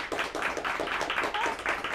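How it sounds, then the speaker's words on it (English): A studio audience claps steadily, dense rhythmic applause filling the room at moderate volume, with a faint voice mixed underneath. "Give yourself a round of applause."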